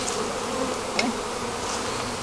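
Honey bees from a package buzz continuously while being installed into a hive, a close, steady insect hum with one brief louder pass, and no talking.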